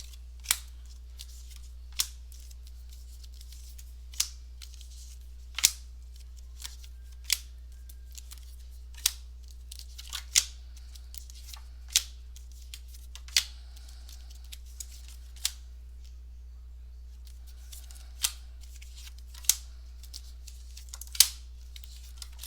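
Cards shuffled and snapped in short crisp bursts, roughly every one to two seconds, close and fairly quiet over a low steady hum, with no talking, during a psychic reading.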